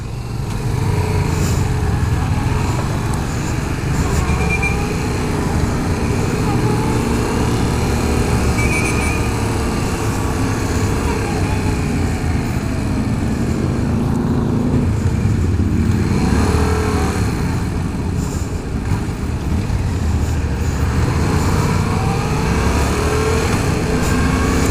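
A 2015 Yamaha FZ-07 motorcycle runs steadily on a test ride, its engine droning loudly and close throughout, with a few dips and rises in pitch as it shifts and rolls through the throttle, and no talking.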